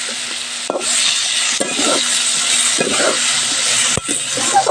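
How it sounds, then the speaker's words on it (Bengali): Potatoes and eggplant stir-fried with shrimp, salt and turmeric in a pan, a steady loud sizzle with repeated scraping strokes of a spatula at a regular pace. "লবণ হলুদ দিয়ে ভালো করে আলু আর বেগুনটা চিংড়ি মাছের সাথে কষিয়ে নেব"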